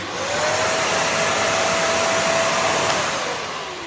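A Karcher WD3 wet-and-dry vacuum cleaner starts up and runs with a loud, steady, close airy whine that holds evenly for a few seconds before easing slightly, with no voices.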